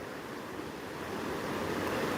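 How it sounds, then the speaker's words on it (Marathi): High-pressure water rushing at a riverside spot, a steady broadband roar that swells slightly louder toward the end, close and continuous with no voices. "कसलं पाण्याचं प्रेशर आहे"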